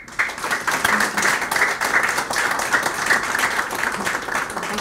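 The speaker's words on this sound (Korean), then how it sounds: "여러와 같은 뜨거운 박수 속 환영해 주시면 대단히 감사하십니다" An audience at a history forum lecture applauds to welcome the speaker, with loud, close, dense clapping carrying on steadily throughout.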